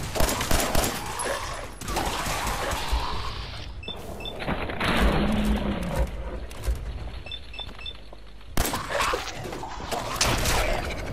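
Rapid bursts of gunfire from the video game Fallout 4 crackle through a chaotic firefight, dense volleys running almost continuously with brief lulls and sharp loud shots near the end.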